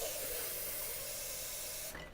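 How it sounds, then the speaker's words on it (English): A small countertop ice maker's pump squeals and hisses continuously at steady loudness, a sustained whining tone over broad airy noise, cutting off abruptly near the end. "listening to that pump squeal hurts my brain"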